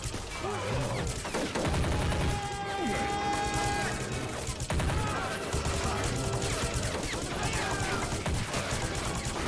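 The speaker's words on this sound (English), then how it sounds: "Got a right gunfight here." Rapid gunfire in a battle in the video game Army Men of War, dense bursts of shots and explosions layered with game sounds, continuous and loud, with some talk underneath.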